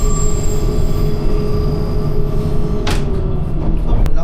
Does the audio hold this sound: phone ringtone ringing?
no